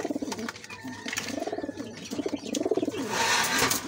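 Racing pigeons coo in a loft, a close, repeated run of throaty rolling coos in three or four swelling bursts, with faint rustling and a brief hiss at the end.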